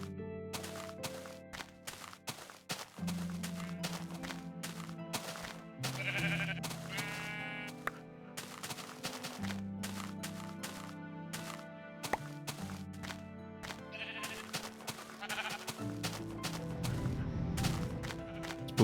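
Repeated sheep bleats in a video game, mixed with rapid clicking, sharp crackling bursts and game tones in a busy, continuous soundscape.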